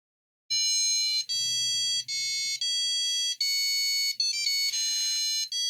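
A bright electronic buzzer plays a simple melody of sustained beeping tones, note after note with short gaps, loud and close, with no voices.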